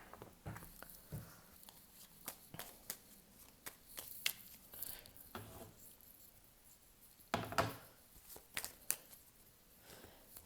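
Oracle cards are shuffled close up in quiet surroundings, giving soft papery riffles and sharp slaps in irregular bursts with brief pauses between them.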